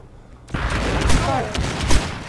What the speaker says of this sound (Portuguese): Deu tiro no peito do cara, tá morto